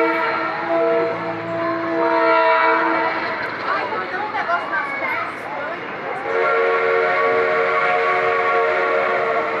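A train passing in Jaguariúna, Brazil, sounds long sustained horn blasts, near and loud, with rumbling wagons and rail noise in between, the horn returning toward the end.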